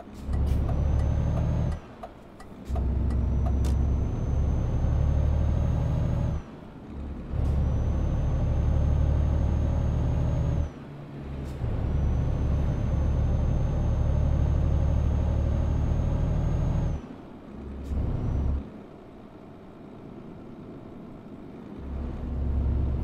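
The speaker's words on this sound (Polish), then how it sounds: "nasza ciężaróweczka, słuchajcie, jak się rozpędzi" A heavy truck engine in Euro Truck Simulator 2 roars loudly as it accelerates downhill. The steady, droning bursts are broken by short pauses, with no talking.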